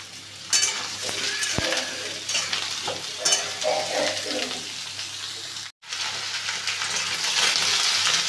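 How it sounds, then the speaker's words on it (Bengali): Pointed gourd, eggplant and pumpkin fry together in a pan, giving a steady close sizzle with stirring scrapes and clinks, one brief cut-out in the middle and louder sizzling near the end. "তারপরে পটল দিয়ে দিলাম, বেগুন কুমড়ো সব সবজি ভালো করে ভেজে নেব"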